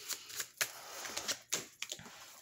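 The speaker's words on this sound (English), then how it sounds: "I wish these cards would stop flying all over the place" Tarot cards flapping and scattering during a shuffle, with a rapid run of papery slaps and riffles up close, several sharper snaps standing out over the steady rustle.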